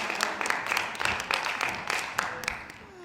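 A film festival audience applauds in Toulouse at the AfriClap festival of African cinema, dense rapid clapping from a crowd with sharper individual claps on top, steady and moderately loud for the whole stretch.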